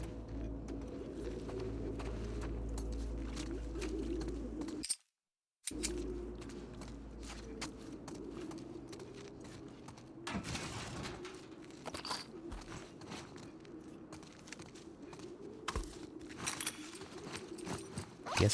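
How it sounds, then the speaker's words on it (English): Pigeons coo softly in the background of a tense stretch of The Last of Us Part 2, low murmuring calls under ambient game sound and occasional footsteps, with no talk over them. "Those just sound like pigeons."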